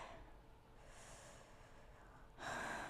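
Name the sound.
deep inhale before playing the violin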